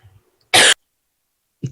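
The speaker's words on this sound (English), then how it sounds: "I got a dry cough." A single sharp, dry cough bursts out loud and close, with a faint breathy sound just before it and a brief low noise trailing after a pause.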